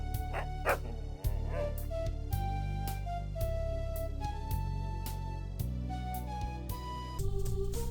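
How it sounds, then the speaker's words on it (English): A synthesized dog barks in the computer game Police Quest: Open Season, short electronic yips set against looping retro game music with steady tones, bright and close. "Careful. This dog is unfriendly."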